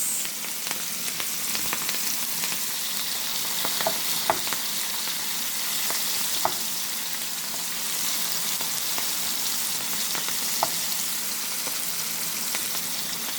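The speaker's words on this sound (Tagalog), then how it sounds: "piprituhin na natin ang ating sibuyas" Onions frying in a pan for mujadara give off a steady, even sizzle with soft crackles and small pops throughout, close and continuous with no voices.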